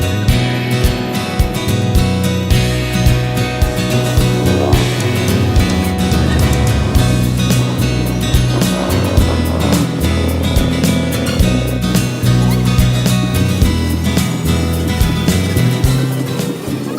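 Dense road traffic roars steadily, with engines rumbling low and continuous and vehicles passing close at a constant high level, and no voices over it.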